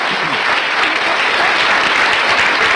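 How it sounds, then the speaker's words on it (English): A television talk-show studio audience applauds: dense, steady clapping from a full crowd that holds at a constant loud level throughout, with no voices audible over it. "All right, let's clap."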